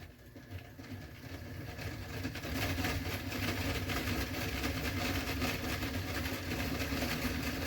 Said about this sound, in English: Once it gets this train up and over the curve, it should be fine.